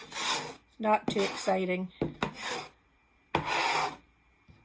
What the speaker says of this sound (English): I just use the edge of my ruler to scrape those things off